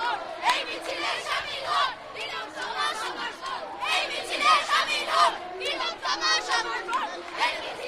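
A protest march crowd in Kolkata chants slogans in rhythmic shouted bursts, many voices together rising and falling steadily at mid distance with no pause.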